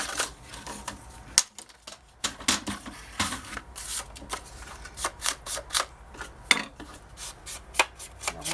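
Paper being cut for a scrapbook album cover, a series of short crisp snips and rustles in an irregular rhythm, close and fairly quiet with brief pauses between cuts.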